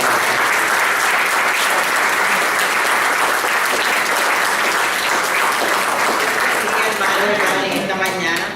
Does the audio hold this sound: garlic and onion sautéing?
no